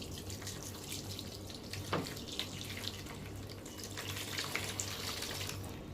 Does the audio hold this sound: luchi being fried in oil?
no